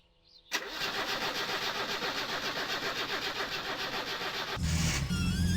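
In the My Summer Car video game, a car engine catches after a short crank and runs at a steady, rough mid-pitched idle, then the tone shifts near the end as revs rise slightly; no one speaks over it.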